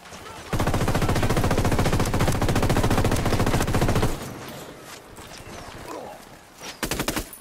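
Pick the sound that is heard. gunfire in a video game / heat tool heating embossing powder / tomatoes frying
gunfire in a video game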